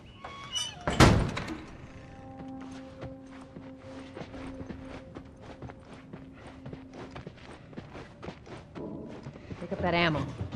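A heavy door is shut in The Last of Us, a loud low thunk early on, followed by quieter footsteps and small knocks under a steady low hum, with voices talking near the end.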